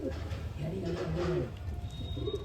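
A pigeon coos close by with soft low rolling calls, a few of them in a short run and then a fainter coo near the end, over a steady background hum.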